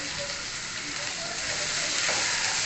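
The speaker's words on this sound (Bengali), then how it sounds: "আলুগুলো দিয়ে মশলার সঙ্গে একটু ভাজা ভাজা করব।" Potatoes fry with ginger-garlic paste and spices in a pan for a fish-head curry, giving a steady, close, broadband sizzle that hisses evenly throughout with no talk.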